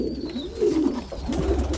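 Meat pigeons coo inside a loft, with low, rolling, throaty calls swelling and overlapping continuously, close and fairly loud against a steady background hum.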